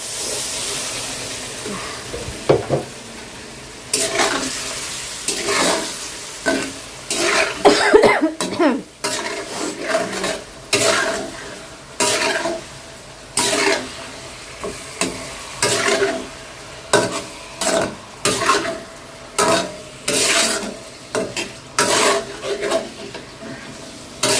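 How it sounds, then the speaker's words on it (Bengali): Fish with spices sautéing in a pan, with repeated bursts of spatula scraping and stirring over a steady sizzle. The strokes come close and loud in an uneven rhythm, and no voice is heard. "মাছটা একটু ভালো করে কষানো হোক"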